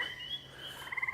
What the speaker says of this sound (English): What you can hear now is the peepers, and the tree frogs have changed the tune a little bit.